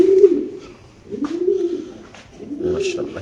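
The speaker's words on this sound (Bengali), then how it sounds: "ভাই এটা একটা black racer, sorry white racer, নর কবুতর ভাই" A male white racer pigeon gives three drawn-out cooing calls close by, each swelling and fading, with brief pauses between them.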